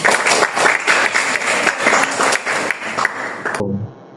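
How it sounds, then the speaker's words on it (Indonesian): A roomful of people in a high school classroom applaud steadily for a few seconds, the clapping cutting off abruptly near the end. "Tepuk tangan."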